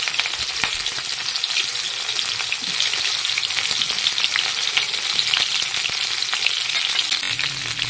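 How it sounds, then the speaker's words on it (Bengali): Steady, dense sizzling of cauliflower pieces frying in hot oil, continuous and close, with faint stirring crackles throughout and no voices. "তেলটা গরম হয়েছে, ফুলকপিগুলো ছেড়ে দিলে ফুলকপিগুলো সুন্দর লাল লাল করে ভেজে নেবে"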